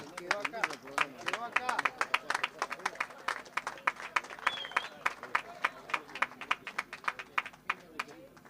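At an outdoor livestock auction at a rural expo, a crowd applauds in uneven, scattered claps, moderately close, with some voices mixed in.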